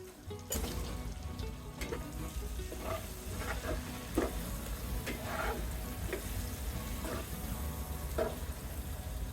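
Spices with turmeric and sliced green chillies sizzle in hot oil while a spatula stirs and scrapes the pan, a steady close frying hiss with scattered clicks and knocks, no voices.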